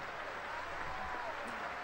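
An audience applauds the Swedish entry at the 1960 Eurovision Song Contest. The sound is a faint, steady patter of clapping heard from a distance, with a thin wash of crowd noise and no breaks.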